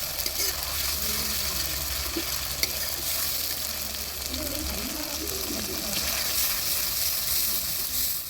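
Tahri with peas and carrots sizzles and fries in a kadhai while being stirred, a continuous close crackle with scraping spoon movements, low and steady, with no talking.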